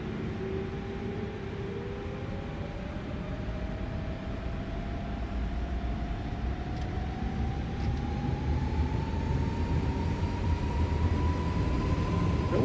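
Inibuilds A320neo airliner in Microsoft Flight Simulator rolling for takeoff, steady loud engine roar with a slowly rising whine building over the run, alone without talk.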